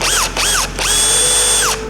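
A Milwaukee M18 FQID2 cordless impact driver runs up in three short, loud bursts, the last one held longer as the screw is driven, with a quiet, smooth whirring tone throughout.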